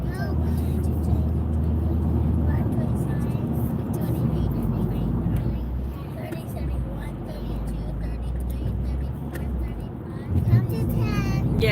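A two-car light rail train runs from the airport toward downtown with a steady low rumble close by, while people talk over it throughout.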